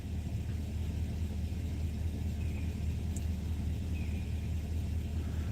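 A 2006 GMC rumbles steadily on the road, its low engine drone and road noise continuous and fairly close with no talking.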